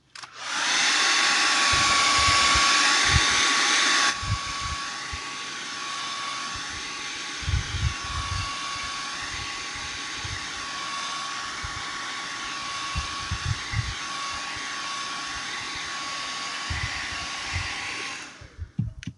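A hair dryer blows on a Halloween house craft, a loud steady whir that starts on high, drops to a slightly lower setting and runs for nearly twenty seconds before cutting off, with no voices.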